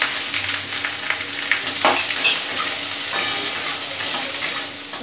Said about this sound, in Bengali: এবার আমি কাঁচা লঙ্কা দিচ্ছি, কাঁচা পাকা লঙ্কা আর পেঁয়াজ দিচ্ছি।